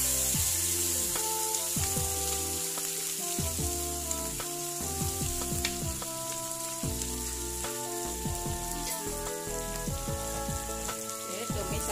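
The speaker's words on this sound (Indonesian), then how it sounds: "tumis sampai matang dan tanah" Blended chili paste of red chilies, tomato and garlic sizzles loudly as it is stir-fried in a pan for jengkol sambal. A dense, crackling fry continues throughout with occasional stirring scrapes.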